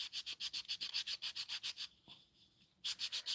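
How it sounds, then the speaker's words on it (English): A small wooden tree earring is sanded by hand in quick, rhythmic back-and-forth strokes, close and crisp, with a brief pause before the rubbing resumes. "it's moving, so it's hard to sand on it"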